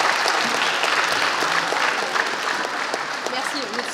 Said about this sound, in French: Allez, on les remercie, on peut les applaudir.